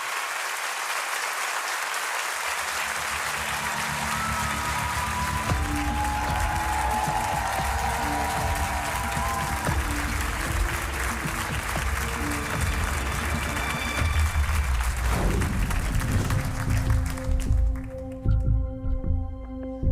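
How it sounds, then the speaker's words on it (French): A large audience applauds steadily and loudly for the whole stretch, with a few cheers and shouts mixed into the clapping. "ça fait plaisir d'entendre vos applaudissements"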